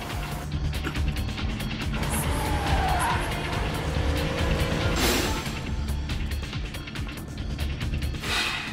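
A 600-horsepower twin-turbo L28 sports car drives hard, its engine roaring close and loud with a tire-squeal, skidding character and a brief sharp surge near the middle, with no voices.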